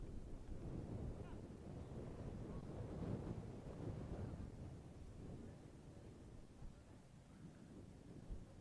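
Strong gusting wind buffets the microphone at an outdoor high school softball game, a continuous roaring rumble that swells and eases for several seconds with no talk.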